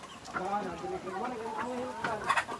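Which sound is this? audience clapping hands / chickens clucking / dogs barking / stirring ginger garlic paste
chickens clucking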